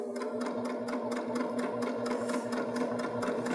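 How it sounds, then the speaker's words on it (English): A Baby Lock Jazz II sewing machine stitches decorative stitches through fabric, its rapid, even needle rhythm running steadily and close throughout with a constant motor hum. "We're going to sew about halfway down, and we'll select another stitch."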